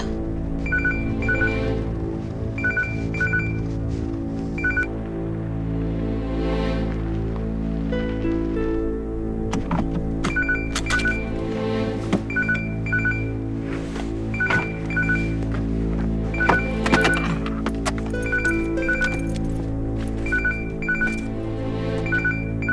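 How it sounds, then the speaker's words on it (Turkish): A phone rings in a domestic TV drama scene with a steady, repeating electronic ringtone in short, evenly spaced bursts over a continuous background tone. "Telefonun çalıyor Zuhal."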